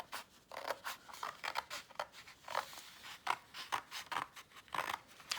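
Scissors cutting paper for a pop-up frog card, heard close up as a steady rhythm of crisp snips and slides, repeated more than a dozen times with no voice.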